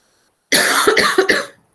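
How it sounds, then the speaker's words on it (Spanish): A single burst of harsh coughing, several quick hacks run together, close and fairly loud after a moment of silence. "estoy con una tos"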